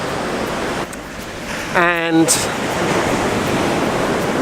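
Ocean waves break on a sandy beach with rocks just offshore, a constant broad wash of surf heard close, with someone briefly speaking partway through.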